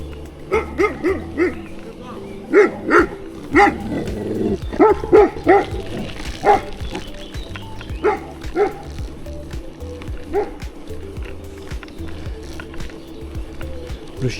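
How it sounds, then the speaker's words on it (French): An off-leash dog barks and yips in repeated bursts near a trail during a long mountain-bike ride, with a person talking between the barks. "Le chien même pas en laisse."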